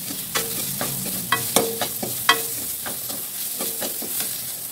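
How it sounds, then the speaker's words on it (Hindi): Spices and two spoons of Kashmiri red chili fry with onion in a pan for sambhar, a steady close sizzle broken by several sharp clinks and scrapes of a stirring spoon. "हमें मसालों को अच्छे से तलेंगे दो मिनट के लिए"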